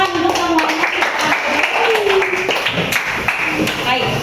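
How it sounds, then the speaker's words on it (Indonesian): Classroom of students giving a round of applause for everyone, loud uneven clapping close by, mixed with children's voices and chatter throughout. "tepuk tangan untuk semuanya"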